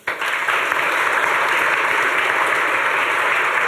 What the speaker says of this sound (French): À vous de répondre en applaudissant.